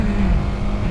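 A Yamaha R15 motorcycle revs hard as it passes on a road, a loud, close, rough engine roar that holds steady across the brief moment.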